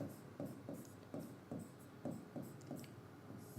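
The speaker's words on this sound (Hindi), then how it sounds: "अब देखो मैं इसको कैसे लिखता हूं" Writing during an engineering lecture on the static power transfer equation, heard as quiet, rhythmic scratching strokes repeating at a steady pace on a board or page, close and alone.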